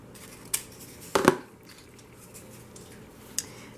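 Scissors trim material for a farmhouse-style napkin ring in a quiet room. A faint click comes first, then a crisp double snip of the blades, then another soft click later.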